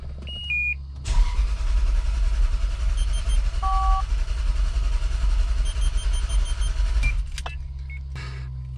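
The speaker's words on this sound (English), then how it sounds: "I'm going to start the vehicle to relieve the pressure out of the system." A Toyota or Lexus engine with its fuel pump disconnected cranks loudly and steadily for about six seconds without catching, then stops.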